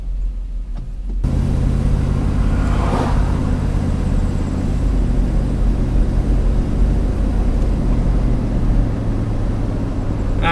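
A crawler hauler on a test drive after a rear axle rebuild with fresh gear oil, cruising at about 35 mph after shifting through its gears; a steady, loud engine and road rumble from inside, with no talking.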